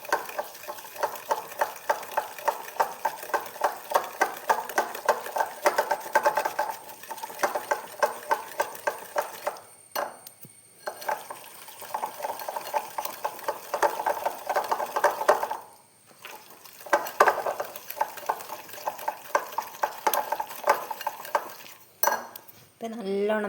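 Biscuit batter ingredients stirred and mixed in a bowl, a brisk rhythmic scraping and clinking of a utensil against the dish, repeated in bursts with a few brief pauses, close and fairly quiet.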